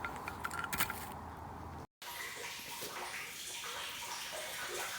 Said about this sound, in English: There's the water still trickling in.